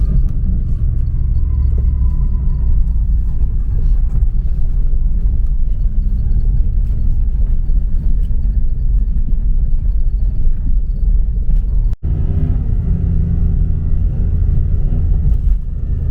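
An off-road vehicle pushes through mountain snow drifts, its engine a loud, continuous low rumble close by with a brief knock near the end, and no one speaking.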